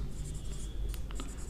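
A pen scratches across paper in a quiet room during a vocabulary lesson, with short, faint strokes close by and no voices.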